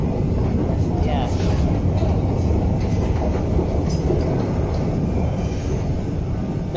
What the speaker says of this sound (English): That's another train.